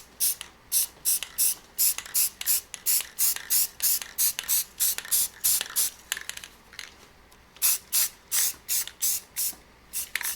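A spray can lays a heavy coat of black paint onto laser-engraved wood in a long run of quick, evenly spaced hissing bursts, close by and crisp, with a short pause partway through.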